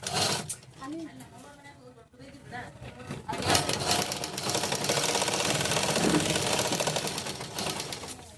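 An electric sewing machine stitching fabric for a top's neckline, with a steady fast needle rattle that runs continuously through the second half, while someone talks over it.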